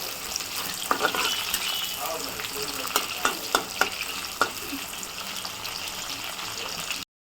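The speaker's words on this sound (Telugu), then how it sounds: "నూనె గరమైంది ఉల్లిగడ్డలు వేసుకుంటున్నా" Onions sizzle steadily in hot oil. A spoon stirring them gives several sharp scraping clicks over the constant frying hiss.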